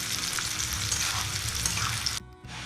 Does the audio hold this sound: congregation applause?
no